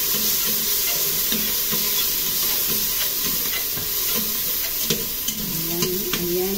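Garlic, onion and tomato sauté in a hot pan, giving a loud, constant sizzle and hiss with repeated scraping and clinking from stirring, close up with no speech.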